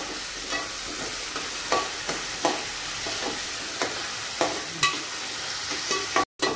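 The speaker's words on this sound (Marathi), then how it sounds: "चांगलं शिजेपर्यंत आपण परतून घेऊ टमाटे।" Tomatoes sautéed in a pan for radish greens bhaji give a steady close sizzle, broken by regular scrapes of a stirring spoon and a brief dropout near the end.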